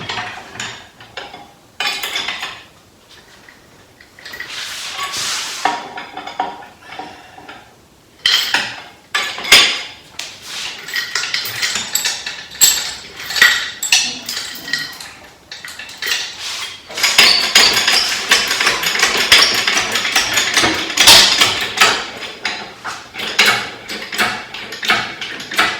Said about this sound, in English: I'm gonna drop it and straighten this chain.